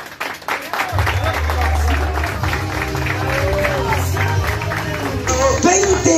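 A studio crowd on a Chilean television singing show applauds loudly to welcome a performer, sustained clapping and cheering layered with music and voices, ending as a tonal sound cuts in.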